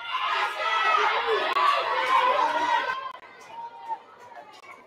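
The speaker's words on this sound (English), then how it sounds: "the crowd up on the hill, too, you can start to hear them coming into this one as well." Spectators on a grassy hill at a women's rugby league match between Erub United Ladies and Burdekin Delta Dolphins Ladies make a loud, steady hum of chatter and calls that eases off toward the end, with voices blended into the noise.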